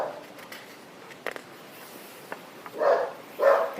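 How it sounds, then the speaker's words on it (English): A dog gives two short, muffled barks near the end, after a stretch of faint background noise and a few small clicks. "There's a dog."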